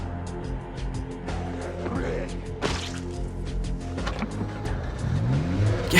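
A car engine in the video game Project Zomboid cranks and catches after a hotwire, with sharp mechanical clicks and a whooshing surge near the middle, then settles into a steady running rumble.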